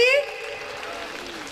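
A church congregation applauds steadily for about a second and a half, a dense wash of clapping that begins under the tail of a loud preaching voice and then carries on alone.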